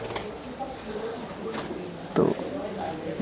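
A pet pigeon cooing in a loft among a fancier's old collection, soft low coos at close range, mixed with someone talking and a brief rustle of movement.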